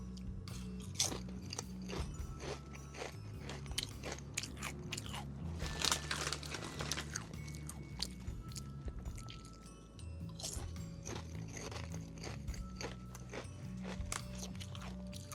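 Close, crunchy bites and chewing of Quest protein chips, tortilla or original style, repeating in an irregular rhythm for about fifteen seconds with no talk.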